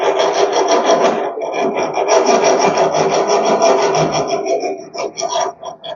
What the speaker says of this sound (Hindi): चलो भैया मनीष साफ करो, इधर से रगड़ो।